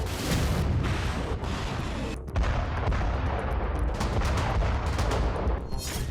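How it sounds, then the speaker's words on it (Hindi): Dense rapid bursts of cluster bomb explosions, released from intercepted missiles over Crimea's coast and residential areas, crackle and thud continuously like fusillade, loud and sustained for about six seconds with a brief dip near the middle, no speech. "इंटरसेप्ट होने के बाद मिसाइलों में लोड क्लस्टर बम फट गए।"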